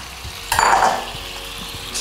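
Cooked bow-tie pasta drops into a hot pan with shrimp and wilted spinach, setting off a sudden close sizzle that swells briefly and then settles to a softer, steady frying hiss.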